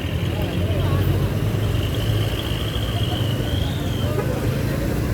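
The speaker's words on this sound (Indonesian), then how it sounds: "Nah ini ada mobil pribadi masuk" Private car driving in at a busy junction near a market, engine and road rumble under steady traffic noise, with people talking over it.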